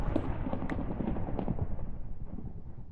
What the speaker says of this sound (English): For a moment there, that seemed more like an explosion than a thunderstorm.